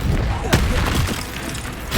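Expelliarmus spell cast in Hogwarts Legacy, a sharp magical burst and thump landing in a dense, loud wash of combat noise and crackle, with a second hit near the end.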